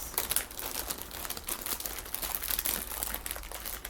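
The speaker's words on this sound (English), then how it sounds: "Oh, this is a different type of plastic bag." Plastic bag packaging crinkles and crackles continuously up close while model kit parts are unwrapped, a busy rustle with no talking.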